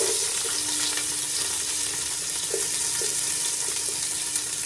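Small onions frying in a pot of oil for Lucknowi biryani, a dense steady sizzle and crackle with a few faint stirring clinks underneath.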